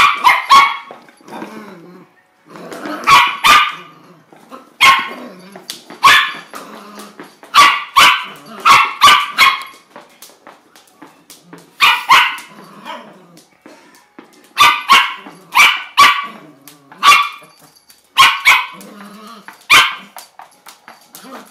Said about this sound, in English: and Dancer goes absolutely bonkers for it, barking at it